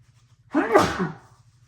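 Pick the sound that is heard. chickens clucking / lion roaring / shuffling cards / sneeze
sneeze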